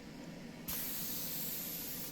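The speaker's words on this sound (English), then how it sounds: "So now I'm spraying." A spray gun hisses steadily as lacquer is sprayed onto a Thomasville dresser, starting abruptly after a quiet moment and holding at an even, close level to the end.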